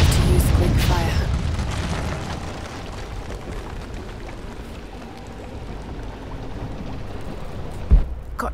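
A Greek fire vessel bursts in Rise of the Tomb Raider with a loud, booming roar that falls into a long rumbling, crackling wash, and a sharp thud lands near the end.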